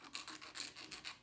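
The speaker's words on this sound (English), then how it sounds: "I am just doing this, just filing them just a tad bit." Acrylic nails are filed with a nail file in short, quick rasping strokes, about six rhythmic scrapes heard close and faint with no talking.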